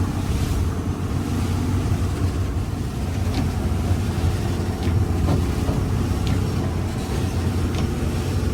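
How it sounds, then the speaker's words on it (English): Big waves pound against a sailing yacht in rough water, with a steady roar of surf and heavy wind buffeting the microphone, loud and continuous throughout. "Hang on, we're gonna hit a couple big waves"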